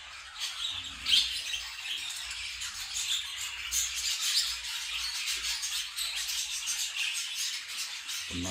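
Budgerigar chicks in their first feathers give a steady, dense mass of high chirps and squeaks, close and continuous throughout with no talking.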